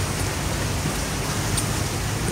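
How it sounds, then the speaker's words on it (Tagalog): Light drizzling rain during a river dinner cruise on the Saigon River in Ho Chi Minh City, a dense steady hiss of fine drops with no voices. "Umuulan. Umaambon."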